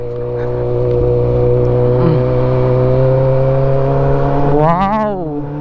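Honda CB400 motorcycle engine on a high mountain highway, running loud and steady with a strong low hum, then revving up sharply near the end with rising and falling pitch.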